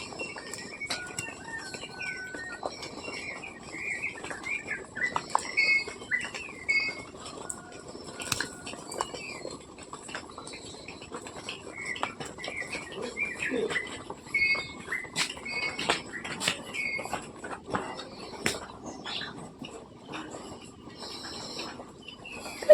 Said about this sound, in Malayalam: ഈ സമയത്തൊക്കെ ഇറങ്ങുകയാണെങ്കിൽ നല്ല കിളിയുടെ സൗണ്ടൊക്കെ ഇങ്ങനെ കേൾക്കാം